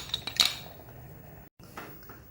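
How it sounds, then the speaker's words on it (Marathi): A metal lid goes onto a pot of boiling food on a gas stove with a couple of sharp clinks and a clatter, followed by quieter shuffling and a soft tap in a kitchen. "आता आपण झाकण घालू आणि गॅस बारीक करू"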